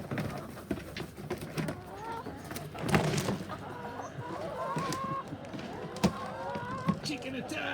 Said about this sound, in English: Chicken attack!